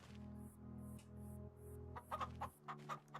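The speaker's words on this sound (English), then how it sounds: "these are the hungry chickens" Chickens in the video game Farming Simulator 25 cluck in short bursts, a few clucks near and clear over a steady low hum, ending with quicker, sharper clucking.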